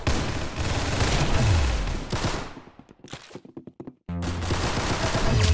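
Rapid gunfire bursts from a Roblox Arsenal shooter game played on mobile, loud and dense, cutting briefly to a sparse stutter of shots before the heavy firing resumes.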